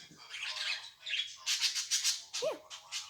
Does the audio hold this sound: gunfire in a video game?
no